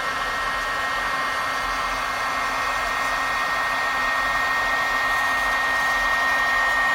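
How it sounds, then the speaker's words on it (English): A heat embossing tool blows hot air over a card base while the embossing powder melts, giving a continuous loud fan whoosh with a steady whine that builds slightly over the seconds. "So, heating up my tool again, bringing it over to the card base, waiting for this to melt."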